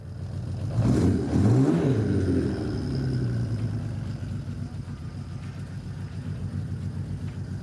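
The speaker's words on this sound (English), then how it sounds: "I'm going to start the bike" A motorcycle engine with a cold exhaust pipe and suspected ignition coil fault cranks and fires up, a brief rising rumble that settles into a low, steady idle nearby.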